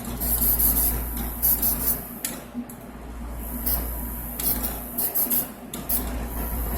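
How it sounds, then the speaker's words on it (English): A spray paint can hisses in repeated short bursts over artwork, spraying paint across the surface with brief pauses between passes, close and fairly quiet. "Holding this above the paintings, overspraying against it."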